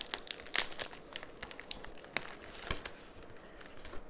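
Crinkly wrapper plastic crumples and tears as trading card packs are ripped open, a run of sharp crackling bursts close up with no talking.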